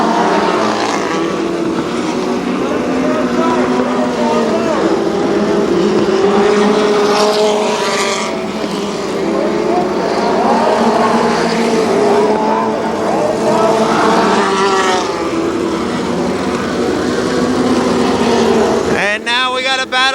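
Pro 4 midget race cars circle Kil Kare Speedway, their engines a continuous loud drone rising and falling as they lap, with a race announcer's voice running over the noise throughout.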